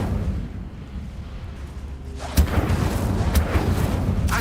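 Incendio fire spell cast in Hogwarts Legacy, a low rumbling burst that suddenly flares into a broad crackling whoosh, with a couple of sharper pops inside the sustained roar.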